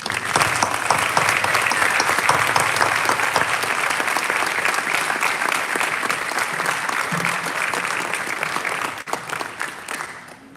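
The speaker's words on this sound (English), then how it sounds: "give them another round of applause" A large audience at a senior awards ceremony claps loudly and steadily for about nine seconds before the applause fades out.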